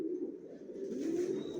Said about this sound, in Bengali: এগুলো অ্যাডাল কবুতর